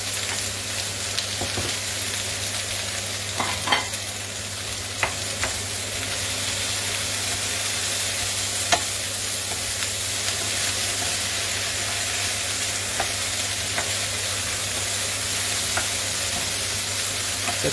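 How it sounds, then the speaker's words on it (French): Aubergine frying in oil in a pan, giving a steady close crackling sizzle with scattered small pops throughout, no talking. "Ça crépite, hein."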